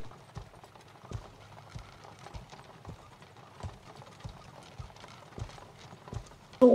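Steady, rhythmic clip-clop of horse hooves at a walking pace, soft and fairly close, in the video game Life is Feudal: Your Own.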